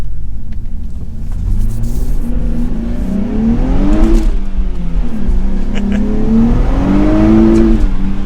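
A new Nissan Z with a manual gearbox revs hard with traction control off, the engine note climbing and falling in loud repeated sweeps over a deep rumble as the rear tires spin.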